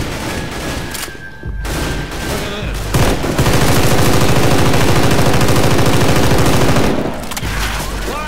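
Loud, sustained automatic gunfire in Left 4 Dead 2 rattles in a dense, rapid stream for several seconds, preceded by scattered shots and clatter.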